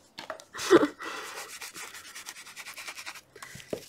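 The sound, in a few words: rubbing something onto a journal page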